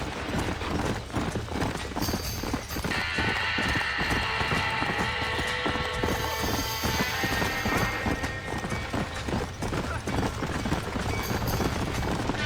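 Horses gallop in Red Dead Redemption with fast, continuous clip-clop hoofbeats, a neigh and a barn fire scene around them. The whole stretch sounds loud and busy, with a mechanical rattle layered over the hooves.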